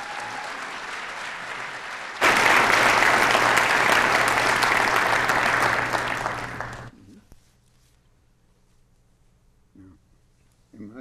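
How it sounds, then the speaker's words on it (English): Audience applauding a speaker being introduced at a faith-themed talk, a loud burst of clapping from about two seconds in that holds steady, then fades out to near silence with faint room noise. "Once again, a round of applause for Mr."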